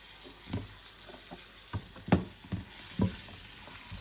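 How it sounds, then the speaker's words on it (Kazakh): Ingredients seasoned with paprika fry and get stirred in a pan for a chicken soup, a soft continuous sizzle broken by several scraping stir knocks, close and moderately quiet. "Енді осының барлығын қуырып аламыз."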